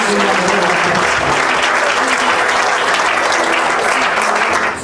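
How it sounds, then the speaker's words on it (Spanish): A church congregation breaks into sustained applause, loud and continuous from many hands, tapering slightly at the very end. "¿Cuánto me le dan un aplauso al Espíritu Santo?"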